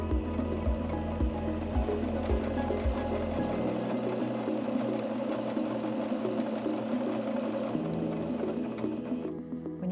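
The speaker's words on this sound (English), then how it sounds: "step on the foot control again to sew your seam" A SINGER C5200 sewing machine runs a seam, a steady fast mechanical whir of needle strokes, close and continuous, with a low thumping rhythm in the first few seconds that then drops away.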